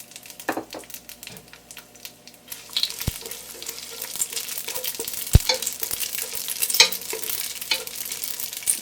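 Whole cumin, cloves, bay leaf, cinnamon and green cardamom drop into hot oil for a Punjabi chicken curry, starting quiet before a bright, crackling sizzle takes over with sharp pops and spoon clinks.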